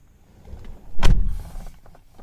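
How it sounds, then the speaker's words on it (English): A car door on a Jaguar XJR converted to electric drive swings shut with a single solid thump up close, followed by a short fading rumble, with no voices around it. "Let me close the door."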